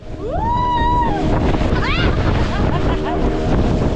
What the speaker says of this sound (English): the waves splashed against us and the boat jumped